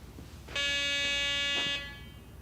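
A Garrett walk-through metal detector sounds its alarm on detecting multiple targets, giving a single loud, steady electronic buzz of about one second that starts and stops sharply against a quiet room.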